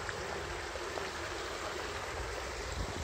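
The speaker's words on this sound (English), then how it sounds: "Got a little stream." A small stream near Keston Ponds trickling steadily, a soft continuous wash of running water heard close by with no talking.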